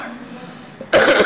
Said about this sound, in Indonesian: Kalau batuk ditutup.